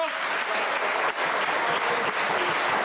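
Studio audience applause on an Italian football talk show, a steady dense clapping that stays loud and even throughout, with a brief dip partway through and no speech over it.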